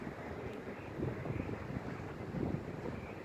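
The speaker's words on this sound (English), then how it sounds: "The wind's starting to really pick up now." Strong wind gusts buffet the microphone outdoors before a storm, a continuous low rumbling roar that swells in a couple of surges, with no voices.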